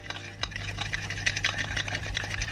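Cake batter made with self-raising flour and baking powder is stirred in a bowl, giving quiet, continuous close scraping and tapping strokes.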